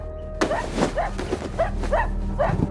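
A dog barks and yips in a quick series of five or six sharp calls, close and moderately loud.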